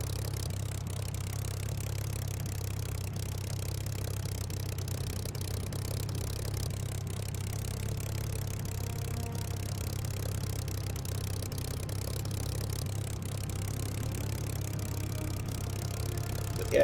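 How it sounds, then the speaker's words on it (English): A Merlin aircraft engine drones in Microsoft Flight Simulator during a flyover of Watkins Glen, a low, steady rumble with faint rattling that runs unbroken and alone for the whole stretch. "Gotta love the engine, just the nice dulcet sounds of the Merlin."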